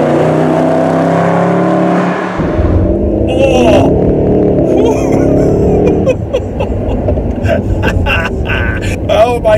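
Mercedes SLS AMG engine revving hard as the car accelerates, a loud low roar building after a quiet interior start, with a person talking over it and brief clicks.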